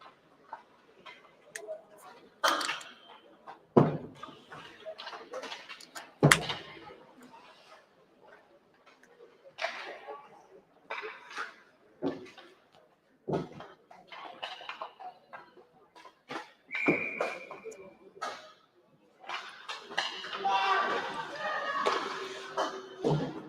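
During a 14U youth ice hockey game in an arena, a referee blows one short, sharp whistle to call icing. It sounds amid the clatter of sticks and pucks, and a commentator talks throughout.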